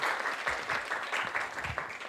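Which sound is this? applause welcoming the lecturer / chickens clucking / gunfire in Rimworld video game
applause welcoming the lecturer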